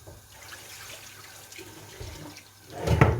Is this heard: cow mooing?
no